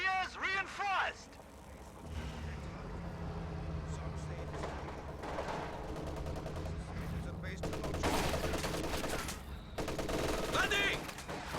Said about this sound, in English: MG-34 suppresses these squads